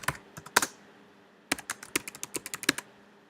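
Quick clicks of fingers on a computer keyboard come in two short bursts of typing separated by a brief pause, close and fairly quiet, with no voices.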